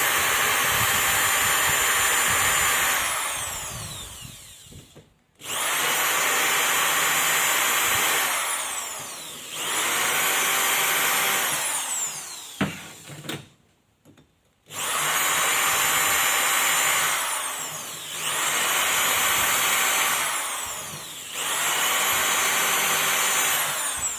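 A bench grinder runs loud and broadband as material is ground away during wheel balancing, in several long sustained bursts separated by brief pauses and spin-downs, with no talking.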